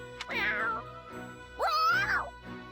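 A human voice imitating a cat during Fire Emblem Warriors: Three Hopes gameplay, two drawn-out meow-like cries with a brief pause between them, close and fairly loud over a faint steady hum.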